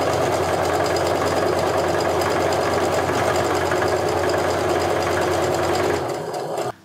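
A sewing machine runs steadily for about six seconds, stitching strips of quilt fabric for a maple leaf log cabin block, then slows and stops. It stays close and fairly loud, with no voices.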